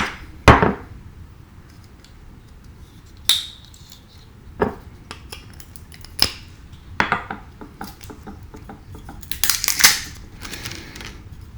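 Thick hot sauce bottle shaken in scattered bursts, giving sharp knocks and rattling thuds with quiet gaps between them and a faster cluster near the end, close with no talking.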